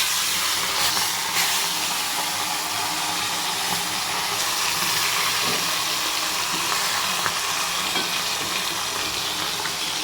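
Fish heads sizzle and fry steadily in hot oil in a home kitchen, a dense, continuous crackling hiss held at close range throughout, with no talking.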